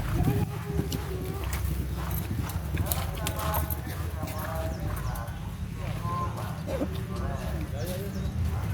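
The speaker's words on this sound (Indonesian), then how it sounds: "Ini ada kuda yang jalannya miring-miring." Horse hooves clip-clop at a walk at an Indonesian horse racing derby in Tegalwaton, Central Java, including a horse moving sideways with a tilted gait, under steady crowd hubbub and someone talking, with faint bird calls.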